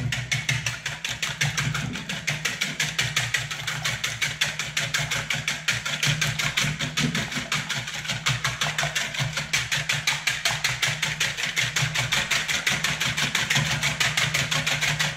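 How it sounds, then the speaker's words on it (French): A mixture for a Munster tatin is whisked briskly in a bowl, making a fast, even series of close rhythmic strokes that continue steadily with no speech. "Bien fouetter l'ensemble."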